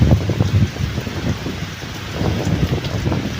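Heavy rain pours down steadily outdoors in a rural Thai setting, a dense continuous wash with gusty rumbling wind, no voices present.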